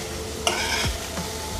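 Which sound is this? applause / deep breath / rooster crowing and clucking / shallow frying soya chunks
shallow frying soya chunks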